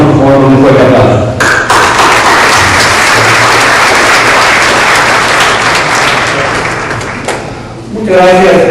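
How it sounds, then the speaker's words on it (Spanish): A conference audience gives loud, dense applause that swells and holds for several seconds, then fades, with a voice briefly heard at the start and end. "Recibamos por favor un fuerte aplauso."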